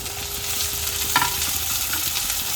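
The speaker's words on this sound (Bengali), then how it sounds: "এই পেঁয়াজগুলোকে আমি খুব ভালোভাবে ভেজে নেব" Onions and tomatoes frying in a pan, a steady close sizzle with soft stirring scrapes and a brief clink partway through.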